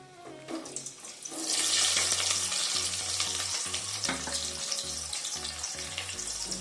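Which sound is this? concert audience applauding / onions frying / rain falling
onions frying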